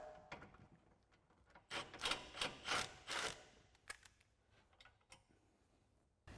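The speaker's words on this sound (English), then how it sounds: "So I've got a 13 millimeter swivel socket on an extension to pop this off." A 13 mm swivel socket on an extension turns a bolt holding an exhaust hanger on a 2024 Ford Mustang GT, a series of close, quiet ratcheting clicks that rise into a louder burst mid-clip, with no talking.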